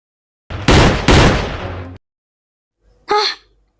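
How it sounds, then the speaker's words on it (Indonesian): Two loud, close gunshots from a pistol in the Sakura School Simulator game, back to back with long ringing tails. After a pause comes a short sharp gasp or cry. "gua tembak lo."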